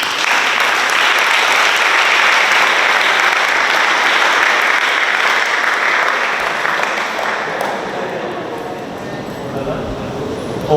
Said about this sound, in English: let's give our students a big round of applause